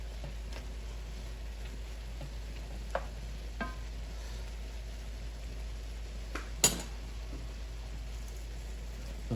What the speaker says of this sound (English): let's add our mushrooms and our bacon back to the pan. Give it a quick turn here.